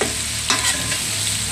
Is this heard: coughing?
no